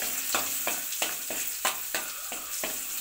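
Salt and red chili powder being stirred through a sizzling mix in a pan with turmeric, potatoes and sesame, with a steady fry hiss and regular spoon scrapes about every third of a second.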